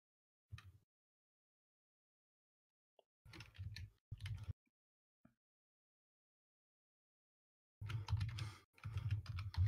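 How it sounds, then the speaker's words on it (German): Someone types on a computer keyboard in short bursts of rapid clicking separated by silences, with a brief burst early, a couple in the middle and a longer run at the end, quiet and close. "Der Sachse tippt."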